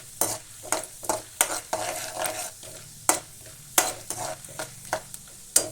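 Dal frying in oil for chivda, with sharp rhythmic stirring scrapes every half second or so over a low sizzle, near and loud, no speech.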